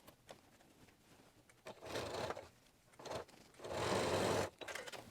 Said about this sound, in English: So we're going to sew 1/4 inch down that side.